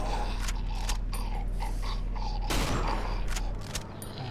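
Gunshots during a boss battle in the horror game Cry of Fear ring out as several sharp reports spaced across the clip, one heavier blast midway, over a constant droning low hum of game ambience.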